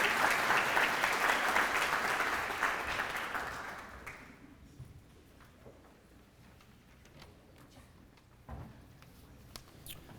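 Applause from a charity gala audience at a child welfare anniversary event, a full burst of clapping that fades after about four seconds, leaving a quiet room with a few scattered claps and faint knocks.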